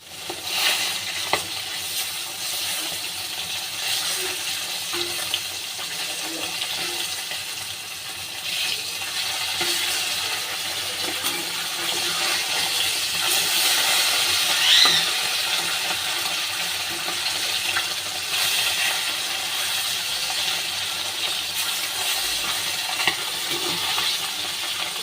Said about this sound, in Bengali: কড়াইতে আমি তেলটা দিয়ে দিয়েছি, তেলটা প্রায় গরম হয়ে গেছে। আর মাছগুলো আমি ছেড়ে দেবো।